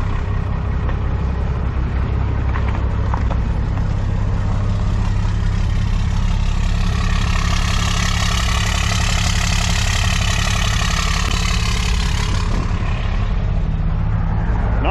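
A 3rd gen truck engine, run after cold cranking with a grid heater, rumbles loud and close at a steady idle the whole time, with a rough low-frequency knock.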